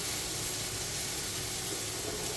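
Potatoes are tipped into a hot pan already frying chicken, giving a steady, close hiss of sizzling fat and steam that holds evenly throughout with no voices.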